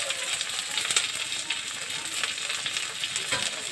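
Diced capsicum and onion frying in a pan, a steady soft sizzle and crackle with occasional stirring clicks, close and moderately quiet.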